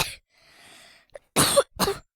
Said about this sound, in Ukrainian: Щось трохи кашлюю